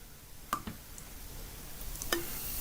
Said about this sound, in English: Then I give it a roundy stir.